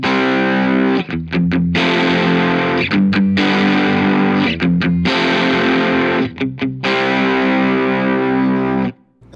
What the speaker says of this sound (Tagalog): ito muna yung tunog niya kapag may amp. Ayan. Ito, yung overdrive ko,